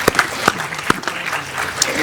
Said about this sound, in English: clap it up for pre-K